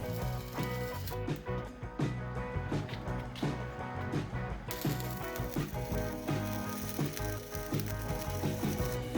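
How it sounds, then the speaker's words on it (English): A tubing notcher being adjusted and cutting steel tube for roll bar supports on a Ninja 250 powered go-kart build, giving a steady, rhythmic mechanical clatter and ratcheting grind close by, with no voices. "We adjusted the angle of the tubing notcher for the support bars that will brace the main roll bar."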